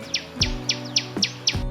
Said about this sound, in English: Tailor bird,